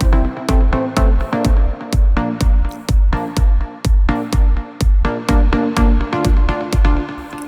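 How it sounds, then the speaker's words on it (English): Plucked synth chords over a synth bass playing the root of each chord in a trance track. A loud, steady four-on-the-floor kick pumps under the repeating plucks. "we've got the synth bass playing the root note of each chord."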